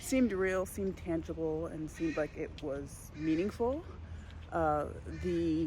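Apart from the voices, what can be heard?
No everyday noise stands out behind the speech.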